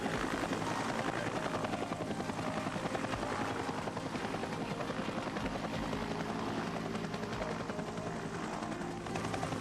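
Huey helicopters of the Air Cavalry landing at a landing zone, a steady rotor chop and turbine roar that stays constant and loud throughout, with no voices.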